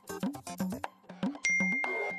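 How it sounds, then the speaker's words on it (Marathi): A phone message notification tone sounds as a bright chime with a sustained ringing tone near the end, following a rapid run of short clicks or ticks. "हाँ रिंकूचा मेसेज"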